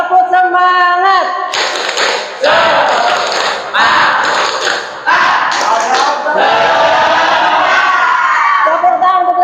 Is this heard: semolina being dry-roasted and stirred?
no